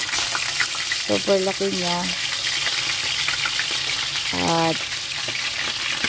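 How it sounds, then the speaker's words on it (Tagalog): Pompano fish sizzles in oil in a pan with a steady, loud hiss throughout, while someone speaks briefly over the frying. "But eventually, ay prito ang nangyari. Ayan, pinirito na natin."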